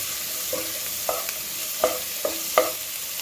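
Vegetables such as beans sautéing in a pan for egg fried rice, a low background sizzle broken by several sharp scraping stirs of a spatula against the pan at irregular intervals, close and with no speech.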